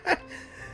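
A Genshin Impact character gives a brief, breathy yawn-like gasp, soft and close, fading into faint background tone.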